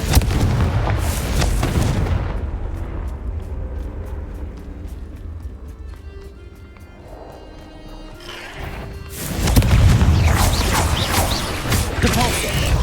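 Confringo blasting curse explosions in the video game Hogwarts Legacy: loud, dense blasts at the start, a quieter stretch with faint mechanical clicking, then another heavy burst of booming impacts toward the end.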